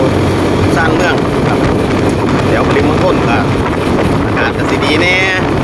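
Wind buffets a moving motorcycle on a road during a commute to work, a steady roar of rushing air and engine noise with no pauses, loud and close throughout.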